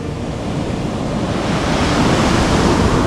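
Ocean waves at high tide on the shore at Lombok, Indonesia, wash in as a steady, loud, broadband roar with some wind buffeting the microphone, with no voices.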